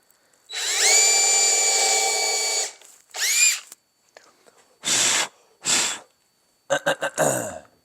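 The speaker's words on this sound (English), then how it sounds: "I'm gonna pre-drill all my holes though." Power drill pre-drilling screw holes in a live edge desk: a long loud whining run, then several shorter bursts and quick stuttering pulses, alone without talk.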